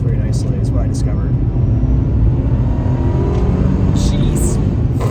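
A supercharged Mercedes C32 AMG Carlsson engine drones loudly as the car accelerates out of a corner, a heavy continuous roar from inside the cabin, with a few faint voice fragments over it.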